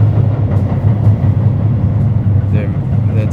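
A train passing loudly on a rainy walk between Tokyo and Yokohama in Japan, heard as a heavy, steady low rumble that fills the whole stretch, with a voice talking over it.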